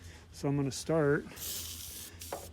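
An aerosol can sprays penetrating fluid onto the crusty, stuck hood and doors of a 1950 GMC truck that sat for over 20 years. Someone speaks briefly first, then a steady, close hiss runs for under a second.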